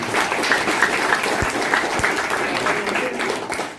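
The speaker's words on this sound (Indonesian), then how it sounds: "Aplaus untuk semua." A business seminar audience breaks into sustained, dense applause that stays fairly even from start to finish, filling the room with steady clapping.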